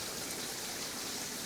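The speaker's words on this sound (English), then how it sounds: "Look at that little waterfall moment." A small waterfall in Cremorne Reserve gives off a steady, dense rush of falling water, even and close, with no voices heard over it.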